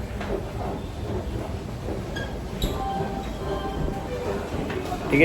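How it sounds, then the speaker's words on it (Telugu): A train at a railway station on the route toward Pondicherry, its low rumble and hiss steady in the background while people talk nearby. "ఇప్పుడు ఈ ట్రైన్ ఉంది, ఆ ట్రైన్తో వెళ్ళిపోయేది పాండిచేరికి"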